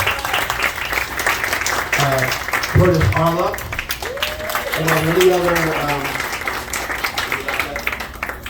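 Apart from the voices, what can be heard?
audience applause for district leaders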